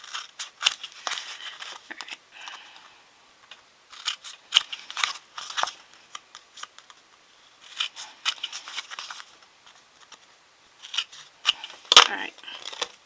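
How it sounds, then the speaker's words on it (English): Scissors snip fabric corners while stripping is removed from a travel wagon sewing project, giving bursts of crisp cuts in clusters with pauses between, close and moderately loud, with occasional rustling of material. "Well, let's snip the corners."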